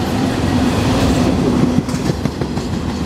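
A long Norfolk Southern freight train of empty spine cars rolls past close by, a loud continuous rumble with rhythmic clickety-clack of wheels over rail joints and a faint squeal, no voices.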